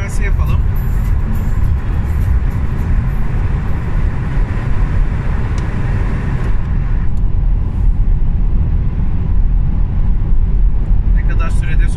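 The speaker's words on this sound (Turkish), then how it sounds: "Bir hızlanma denemesi yapalım." A MINI Countryman E electric car accelerates on a highway, giving a loud, steady rush of road and wind noise inside the cabin that holds constant, with the high hiss easing slightly near the end.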